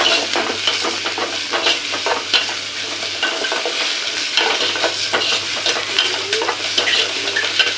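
Onions sautéing in a pan for a green sundakkai kulambu, stirred with rhythmic scraping strokes over a loud, continuous sizzle, close by and without talk.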